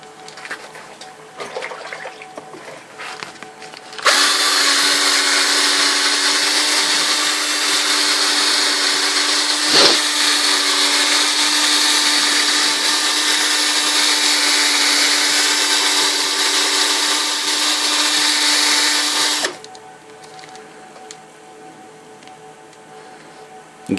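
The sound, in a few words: power sanding Nintendo arcade buttons with 1000 grit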